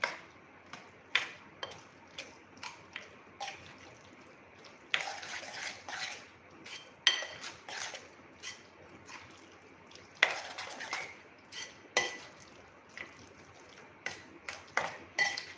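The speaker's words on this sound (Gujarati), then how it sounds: "હવે આપણે આ બેટરને એકદમ સરસ મિક્સ કરી લેશું." Spoon whisking thick semolina batter in a bowl, a steady run of quick clinking taps and scrapes against the bowl's sides, close and continuous throughout.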